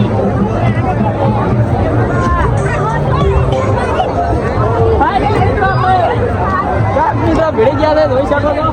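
A dense crowd fills a Gujarati village fair (mela) in Dhanakwada, with loud, continuous overlapping chatter and hubbub from many nearby voices and no pause in the noise.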